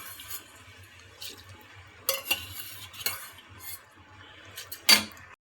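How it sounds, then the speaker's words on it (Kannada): Rice and spices being stirred in a cooking pot for pulao, soft scraping and stirring with several sharper clinks of a spoon against the pot and a faint sizzle underneath. "ಅಕ್ಕಿ ಎಲ್ಲ ಹಾಕ್ಕೊಂಡು ಚೆನ್ನಾಗಿ ತಿರ್ಸ್ಬೇಕು."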